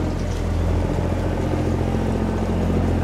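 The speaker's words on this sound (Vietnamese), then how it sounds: "Có một chiếc xà lan đang xuống các bạn, xuống nước xuôi nha." A river barge engine drones steadily as the vessel travels downstream on a river, a continuous low hum with a rhythmic throb that stays fairly near and even throughout.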